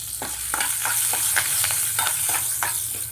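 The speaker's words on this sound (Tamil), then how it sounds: "இப்போ இதில் ஒரு கொத்து கருவேப்பிலை சேர்த்துக்கலாம்." Peanuts and curry leaves fry in a pan for sesame rice, giving a steady close sizzle broken by several sharp scraping stirs spaced through the clip, with no one talking.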